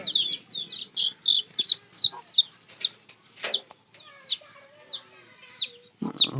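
Young chicks on a small poultry farm give a long run of high, repeated peeps, close and fairly loud, spaced about every half second, with little else around them.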